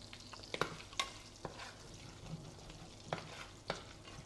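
Cinnamon, bay leaves, cardamom and cloves fry in a pan while being stirred, giving a soft steady sizzle broken by a few sharp clinks and scrapes of a utensil.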